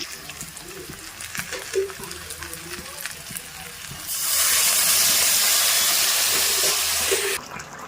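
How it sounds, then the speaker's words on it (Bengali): A hot pan of jackfruit curry hisses as water is added, a sudden loud, steady close rush that holds for about three seconds over a quieter sizzle and stirring. "কষানো হয়ে গেছে এবার পরিমাণ মতো জল দিয়ে দেবো"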